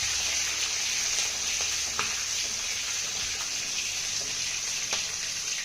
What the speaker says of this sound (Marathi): आता ही मिरची आपल्याला अर्धा मिनिट चांगली परतून घ्यायची आहे